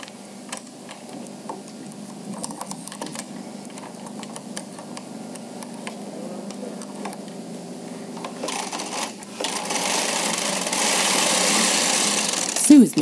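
A Bond Classic knitting machine carriage runs across one row of lace knitting, giving a steady mechanical clatter that grows louder and busier toward the end, with faint ticks throughout.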